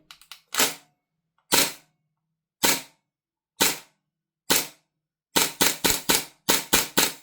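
An airsoft Glock fitted with a shot shell fires on an HPA adapter, letting out sharp, loud pneumatic cracks close by: a few spaced single shots, then a rapid cluster of bursts.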